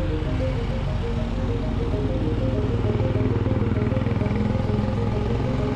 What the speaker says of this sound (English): the road situation still considered quiet, I think, because only a few scooters and cars passing by